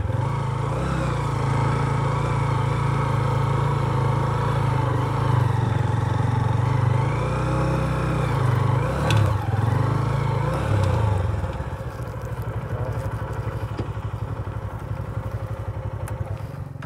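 Motorcycle engine idling steadily up close while the bike is ridden in and parked near a crowded shrine ground, with a low rumble that drops and softens near the end as the bike settles.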